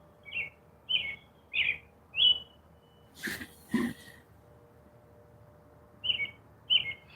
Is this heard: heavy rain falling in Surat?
no